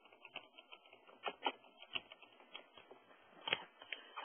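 Text being typed on a computer keyboard, with quick irregular clicking keystrokes and a few louder taps, quiet and close with a thin, band-limited tone.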